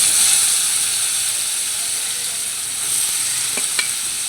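Pointed gourd sizzles and spits in hot mustard oil with nigella seeds, a loud, steady frying hiss filling the pan, with a couple of brief clinks of a utensil near the end.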